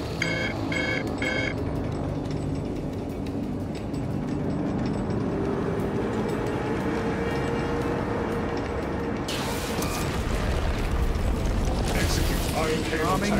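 Heavy crane machinery grinding and clanking in the Warhammer 40,000: Space Marine 2 video game, a loud continuous mechanical rumble with ratcheting clicks, growing harsher and louder toward the end.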